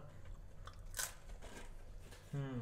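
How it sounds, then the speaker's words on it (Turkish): A single crisp crunch of a bite into a french fry, followed by soft chewing close up, with a low background rumble and a brief voice near the end. "Şöyle bir tane patates kızartması."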